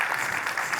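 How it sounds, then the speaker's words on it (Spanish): Brief burst of audience applause at a Spanish-language Microsoft 365 Copilot conference session, steady and even without a break. "un fuerte aplauso a Sofía"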